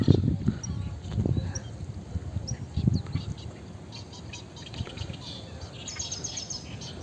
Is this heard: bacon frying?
no